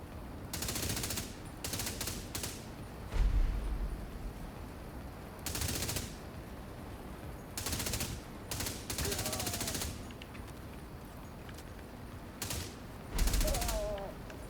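Rapid bursts of ACR rifle fire in a video game, several short automatic volleys separated by pauses, close and sharp, with occasional talk between them.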